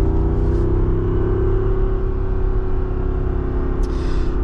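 A Jeep Wrangler Rubicon 392 engine pulls hard uphill through a turn in third gear, a loud steady low rumble and roar that holds throughout with no talk.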